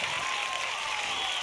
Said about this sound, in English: a little bit of delayed applause that time